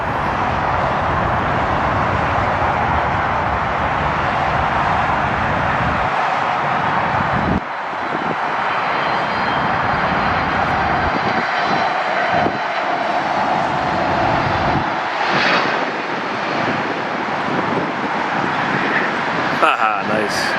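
A FedEx Boeing 767-300 from Memphis landing at LAX, heard as a loud continuous roar of jet engines that sustains and shifts throughout, with wind-like rumble and a few quiet voices underneath.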